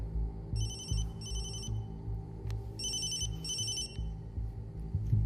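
A phone rings in two electronic bursts, pauses, then rings twice more, clear and steady over a low rumbling background.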